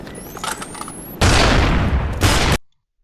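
Two loud, heavy Semtex explosive blasts close by in a first-person shooter video game, the second ending abruptly, following a stretch of lighter game-like clatter and a rising whine.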